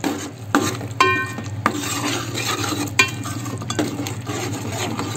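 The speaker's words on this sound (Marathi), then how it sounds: "असं मस्त असं परतून घ्यायचं लागलं हळद मसाला तिखट म्हणजेच मालवणी मसाला" Crab masala with turmeric and Malvani masala being stirred and sautéed in a pan, metal spoon scraping and clinking repeatedly over a continuous low sizzle, close up with no talk.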